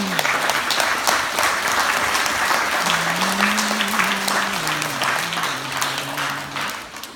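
A crowd at a Gorilla Cup jiu-jitsu event applauds in a sustained, dense burst of clapping that fills the room, while a faint voice murmurs underneath.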